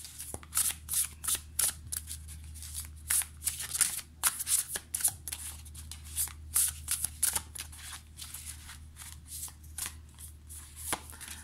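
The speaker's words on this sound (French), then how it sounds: "j'ai envie de tirer 2 cartes pour vous et 2 cartes pour la personne de votre cœur" A deck of cards shuffled close up for a tarot-style card reading, a long run of quick riffling bursts and soft slaps in uneven rhythm, fairly quiet over a low steady background hum.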